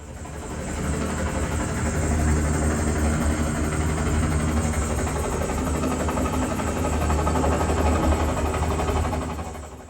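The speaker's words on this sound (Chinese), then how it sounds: "就能听出直升机的声音是由引擎的突突突加上螺旋桨划破空气的刷刷刷这2种声音叠加起来的" Helicopter sound from a film scene played through a Samsung Q990D soundbar: a steady, loud low engine throb with a broad airy rotor wash layered above it, continuous and unbroken for the whole stretch.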